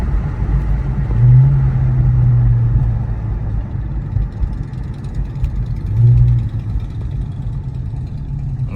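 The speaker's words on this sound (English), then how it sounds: "Let's hit it with some downshifts." A 2021 Infiniti Q50 engine hums low and steady while driving, rising in two brief swells as it downshifts through the gears, with constant road rumble beneath.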